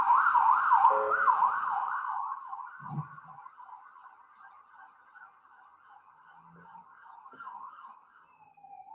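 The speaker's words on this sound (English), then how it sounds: "Let's wait for the ambulance to pass." An ambulance siren wails in a steady rising and falling pattern, loud at first and then fading as it passes and moves away, with a few faint knocks nearby.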